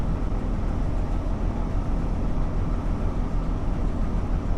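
A train running in the Thames Valley Branches train simulator, a steady low rumbling drone of the moving train, even and continuous with no talk.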